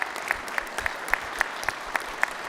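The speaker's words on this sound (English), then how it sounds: "round of applause for being here to support your teams." Audience at a construction management competition gives a round of applause, a dense patter of clapping with a few sharp claps standing out, heard alone without talk.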